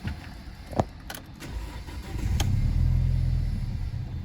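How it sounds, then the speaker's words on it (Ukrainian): A 2006 Audi A4 engine with 117,000 km cranks briefly and catches, settling into a steady low rumbling idle, close by with no talking. "запускаємо автомобіль"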